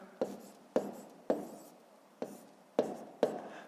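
A pen writes numbers on paper, with six distinct scratchy strokes spaced about half a second apart, close and fairly quiet, and no voice.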